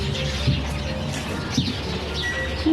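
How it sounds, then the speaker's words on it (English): Small birds chirp and peep in short, irregular calls close by inside a chicken coop, with a soft cooing undertone and faint rustling beneath, no talking. "little chickies are just hiding in the coop now"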